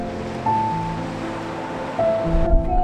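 Sea waves wash onto a beach in Western Australia, a steady broad rushing roar with gusty swells and faint tonal hum underneath, no one speaking.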